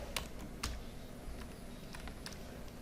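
Sparse keystrokes on a computer keyboard while entering text in Android Studio, scattered soft clicks over a steady low hum of room noise.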